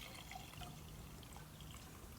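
Disinfectant or rubbing alcohol pours from a measuring cup into a large mixing container, a steady, continuous liquid trickle that runs unbroken for a couple of seconds without any talking.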